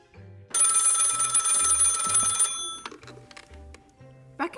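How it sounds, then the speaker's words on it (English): A telephone bell rings with a loud, continuous metallic jangle for about two seconds, close and clear, then cuts off, followed by faint clatter and a brief rustle; no one speaks. "Get Mrs. Barrett on the phone"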